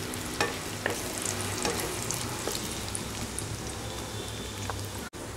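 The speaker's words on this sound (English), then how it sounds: "After adding the dry fruits to ghee, fry this till it gets golden brown color" Dry fruits fry in hot ghee with a dense, crackling sizzle like rain on a surface, dotted with sharper pops and a brief knock near the end.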